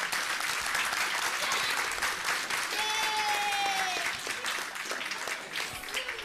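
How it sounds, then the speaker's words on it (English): A large audience applauds a police sergeant at a community gathering, giving sustained, dense clapping that fills the whole stretch with a steady roar, with a few faint voices and whistles rising through it. "give a big round of applause for Sergeant Malik"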